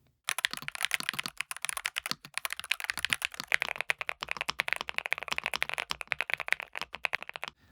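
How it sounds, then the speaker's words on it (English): Rapid, steady typing on a mechanical keyboard, a NuPhy Halo75 V2 or Field75 HE, with crisp clacky keystrokes close up and no talking. "Just listen to the Halo 75 V2 compared to the Field75 HE."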